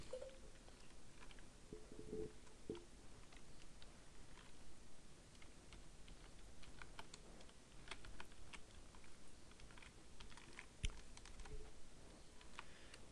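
Computer keyboard typing while a line of text is entered into Photoshop's text tool, a run of light, irregular key clicks at steady moderate level with no talking.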